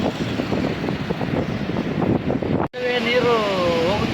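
Water rushing through Narayanapur dam (Basava Sagar): a loud, steady, wind-buffeted roar of flowing water, then someone talking over the continuing rush.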